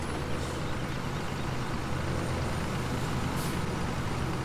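A truck driving downhill in Landwirtschafts-Simulator 17 on the Tanneberg map, heard as a steady, loud engine drone with faint hissing bursts, unbroken and alone.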